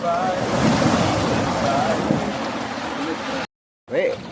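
Rough, choppy sea at a resort during a fishing outing: a steady wash of surf and wind buffeting fills the clip, with voices talking over it before a brief dropout near the end.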